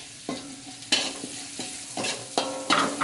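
Tofu and chili are stirred in a hot frying pan, a steady sizzle broken by repeated scraping strokes of the spatula at a close, even rhythm.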